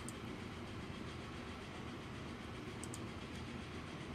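A train runs in the Transport Fever 2 railway-building game, giving a steady, continuous rolling rumble with faint wheel clatter, unbroken and even in loudness, with no voices over it.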